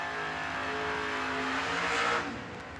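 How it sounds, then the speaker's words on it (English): A Mustang and a Malibu drag race car launching from the line at a drag strip event, a loud sustained engine roar that builds and swells before easing off, with no talk. "Jimmy leaving first in the Mustang, the Spivey machine down 610."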